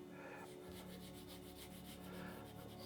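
Quiet, rough scraping of ultramarine blue paint onto a landscape painting, a steady rasping texture with a soft rhythmic pulse, close and faint with no talk.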